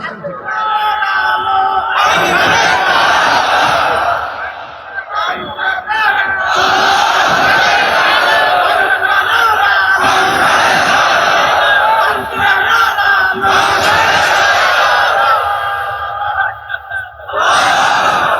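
A large crowd at a religious gathering roars a slogan back in loud, sustained bursts of massed shouting, swelling and dropping several times with brief pauses between.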